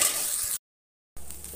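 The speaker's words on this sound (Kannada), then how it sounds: "ನಾವು ಮಸಾಲನ ಚೆನ್ನಾಗಿ ಹುರಿಬೇಕು" Masala spices frying in a pan for a village-style chicken curry, a steady bright sizzling hiss that cuts out briefly and then resumes, close and alone without voices.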